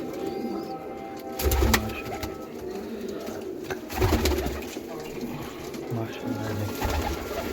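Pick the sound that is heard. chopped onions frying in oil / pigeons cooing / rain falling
pigeons cooing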